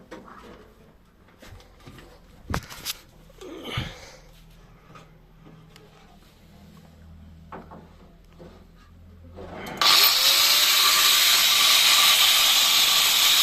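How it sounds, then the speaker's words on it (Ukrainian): After a few quiet clicks and handling noises, an angle grinder starts abruptly with a loud, high, hissing whir that runs steadily to the end. "Підключаємо болгарку."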